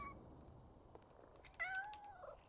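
A cat in a video game lets out a faint meow near the start and then a clearer, longer wavering meow later, over a soft background hum.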